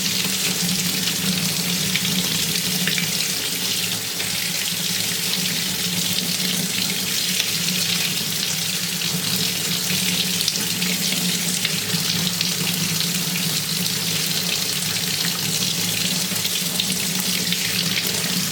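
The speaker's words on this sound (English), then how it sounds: "So we'll turn on our water and see if it gets hot." A sink faucet in a small barndominium runs continuously at full flow, a steady loud hiss of water splashing into the basin with no pauses.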